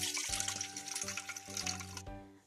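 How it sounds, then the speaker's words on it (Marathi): Water poured off soaked rice while making aloo matar pulao, a steady splashing flow with a few gurgling bursts throughout, heard alone without talk. "आता या भिजलेल्या तांदूळातले पाणी"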